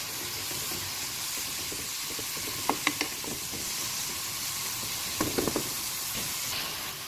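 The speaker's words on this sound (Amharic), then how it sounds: "በዚህ መልኩ ሽንኩርት እየበሰለ ነው።" Onions for a lentil stew sizzle and fry steadily in a pan, a constant close hiss broken by a few sharp clinks and knocks of stirring utensils.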